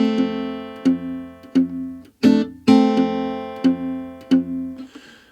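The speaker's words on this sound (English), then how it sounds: "So if I was to use the bass playing only root notes, it would sound like this." Fingerstyle guitar plays a simple blues bass line of repeated root notes, about seven evenly spaced plucked low notes with chords ringing above, alone and clear.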